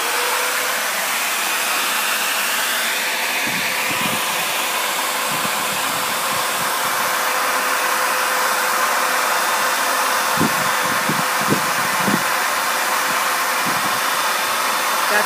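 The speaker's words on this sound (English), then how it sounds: "you have your small hand vacuum" Small handheld vacuum running continuously, a steady airy whine with a constant hiss, sucking up wasps from a nest, with brief low bumps and knocks heard intermittently.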